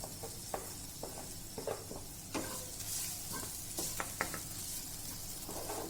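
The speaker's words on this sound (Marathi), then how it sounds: "नंतर यात टाकूया सोयाबीन बारीक केलेलं" Minced soybean sautés in a pan for momos, a low steady sizzle under repeated scraping and clinking of a spatula stirring it, fairly quiet and without talk.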